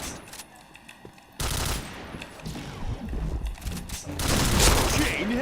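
Gunfire in the PointBlank shooter game: rapid bursts of shots with sharp impacts, growing louder and busier toward the end, heard close amid game effects.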